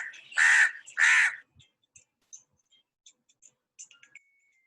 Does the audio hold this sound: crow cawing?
yes